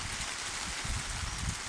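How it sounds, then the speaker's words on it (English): Steady hard rain pours onto a garden gazebo, a dense continuous hiss with close, irregular drops pattering on the roof throughout, no voices. "And it's raining hard."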